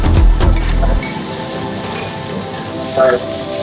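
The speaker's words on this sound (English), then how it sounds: "Our pineapple rice, onions go in." Onions frying in hot oil for pineapple rice, a steady close sizzle with a brief louder burst at the start, no talk over it.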